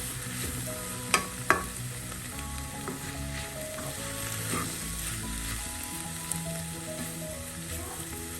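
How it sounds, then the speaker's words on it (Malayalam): Bitter gourd and carrot thoran, mixed with its ground paste, is stirred in a frying pan: a continuous close sizzle broken by two sharp spatula clicks early on and softer scraping strokes afterward. "പച്ചമണമൊക്കെ മാറി നമുക്കെല്ലാം കൂടെ ഒന്ന് മിക്സ് ചെയ്യാം"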